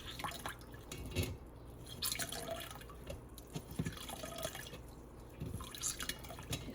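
Water drips and trickles from wet paper pulp, made from recycled egg cartons and paper scraps, as it is pressed into a strainer; irregular close patters and splashes run throughout at a moderate level.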